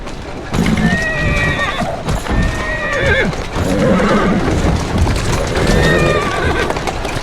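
Horse in the Assassin's Creed Syndicate video game neighs and whinnies repeatedly over steady clip-clopping hooves, with short gaps between calls; a voice speaks in places.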